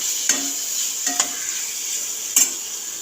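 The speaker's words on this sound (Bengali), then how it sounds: "এটা ভাজা ভাজা হচ্ছে" Taro stolons (kochur loti) stir-frying in a pan, a steady close sizzle broken by three sharp scrapes of a spatula against the metal.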